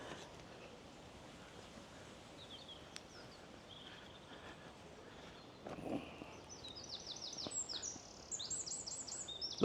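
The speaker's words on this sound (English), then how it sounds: "Lots of birds singing." Birds chirp and tweet faintly in the distance in Sefton Park, Liverpool, over a steady wash of wind or surf, with brighter, quick calls rising toward the end.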